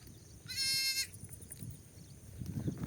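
A single clear bleat from a sheep or goat in a shepherd's flock rises briefly near the start, followed by quiet outdoor background.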